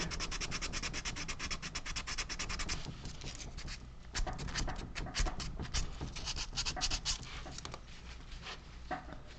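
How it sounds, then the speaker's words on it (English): Hand sanding on a carved model leg for a Final Fantasy V figure: a close, steady rasping scrape in quick back-and-forth strokes, denser in the first few seconds and then in irregular bursts, with no talk. "Kind of do a little sandy sand here."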